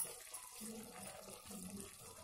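Water is poured into tamarind juice in a home kitchen, a soft, steady trickle and splash that stays faint and close.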